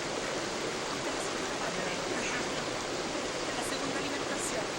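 Clarillo river flowing in steady broadband rush, a constant even wash of water with no breaks, fairly close and filling the scene alone.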